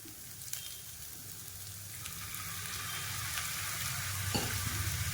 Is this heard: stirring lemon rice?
yes